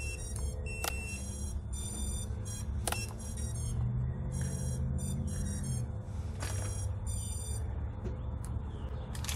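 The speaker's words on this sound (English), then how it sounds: "Got all kinds of alarm beeps going on" Rapid electronic alarm beeps from a sub-250 g quadcopter drone chirp repeatedly in irregular bursts over a steady low motor rumble, fairly close and moderately loud.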